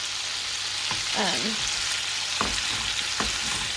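Italian sausage sizzles and crackles steadily in a hot pan, with a few scraping stirs and clinks of a utensil against the pan.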